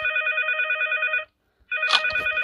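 A telephone rings in a Five Nights at Freddy's–style horror video game, an electronic trilling bell in two bursts separated by a short silence, loud and clear, with a click-like sound at the start of the second ring.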